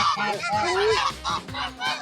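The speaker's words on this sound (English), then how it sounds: "that's a hybrid goose, half Chinese and half European" A hybrid goose, half Chinese and half European, honks repeatedly up close on a farm, its loud nasal calls coming in quick uneven bursts.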